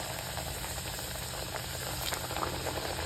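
Puris deep-frying in hot oil for a spicy breakfast snack, giving a steady, dense sizzling hiss that stays close and constant throughout with no voices.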